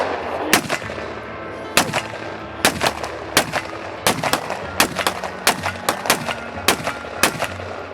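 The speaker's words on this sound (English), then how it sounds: "Let me try to shoot that Luger." A Luger pistol fires outdoors in a quick series of sharp gunshots, about a dozen, some spaced and some in rapid pairs, loud and close with a slight echo.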